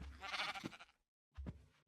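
Two short sheep bleats from a video game, the first longer and wavering, the second brief after a moment of silence, close and clear.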